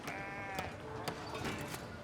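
Baby sheep bleating in the village-building game Foundation, several high, wavering bleats overlapping one another over soft background clatter, with a voice faintly present.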